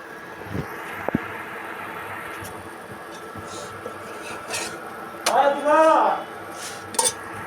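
Pots and dishes clink and scrape in a home kitchen as rice is put on to cook, with a few sharp knocks and a longer metallic scraping run near the middle, fairly close.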